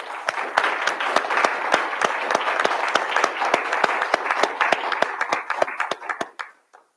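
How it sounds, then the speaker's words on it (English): Applause from an audience at a local election open forum, many hands clapping in a steady crackling wash that thins out and fades to a few last claps at the end. "So let's all give them a round of applause."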